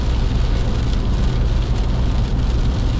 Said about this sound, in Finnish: mutta tuo sade kyllä ei ole hiljainen